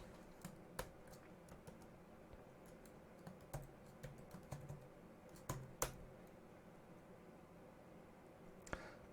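Code is typed on a computer keyboard in irregular bursts of crisp, close key clicks with short pauses between them, quiet and without talk.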